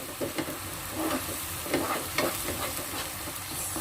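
Sliced tomatoes sauté in a pan for sambal, giving a dense, continuous sizzle with soft, repeated scraping stirs close by.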